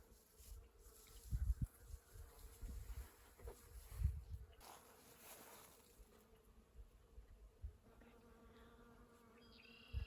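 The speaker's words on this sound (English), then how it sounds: "Do you see what's making that noise? It's a bee, isn't it?" A faint bee buzz drones softly outdoors around a flowering tree, with occasional low thumps and rustling nearby and a quiet background.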